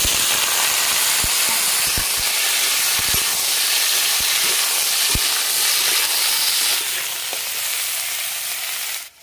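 Potatoes fry in mustard oil in a wok with a loud, steady sizzling hiss, broken now and then by soft knocks of stirring, and the sizzle eases slightly near the end.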